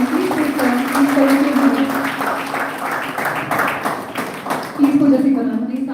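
Audience applause rings out at a college national seminar, steady clapping through the whole stretch with a speaking voice running over it, the applause surging again near the end.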